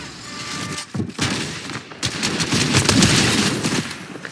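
Rapid bursts of gunfire in a video game, loud and close, with crackling volleys and short pauses between them, continuing as a sustained barrage without speech.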